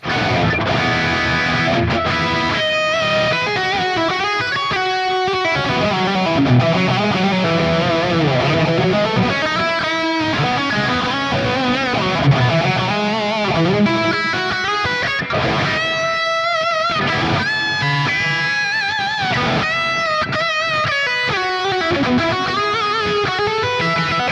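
Electric guitar plays through a Fractal Axe FX amp preset into a 4x12 cabinet with Greenback speakers, saturated and gritty with no drive pedal, delay echoes and reverb trailing melodic lines and chords, loud and continuous for about twenty-four seconds.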